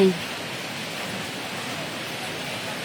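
Steady rain falling at about five in the morning, a continuous broadband hiss with no breaks, even and moderately loud throughout.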